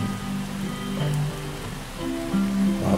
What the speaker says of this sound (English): Just listening to the rain and the storm outside.